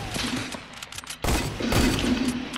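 Rapid bursts of gunfire in Fortnite deathrun gameplay, a short fusillade of sharp repeated shots, a pause then a louder volley, fairly close and alone without talk.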